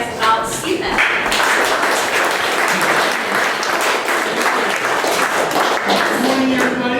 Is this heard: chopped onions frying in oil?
no